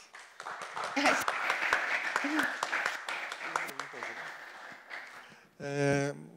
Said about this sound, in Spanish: agradecemos a la conferencista, la aplaudimos otra vez